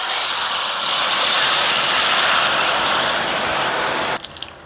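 Pepper mix hitting hot vegetable oil in a pot for catfish stew pepper sauce, a loud, dense, continuous sizzle that cuts off abruptly near the end, leaving a few faint pops.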